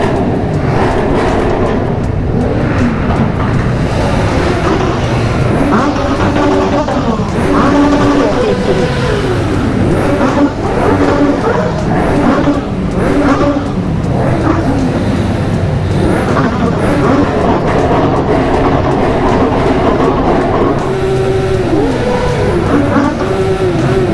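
Motorcycles rev loudly in an enclosed tunnel, their engines roaring and rising in pitch as riders open the throttle, with a dense, echoing wall of sound that barely lets up and voices shouting over it.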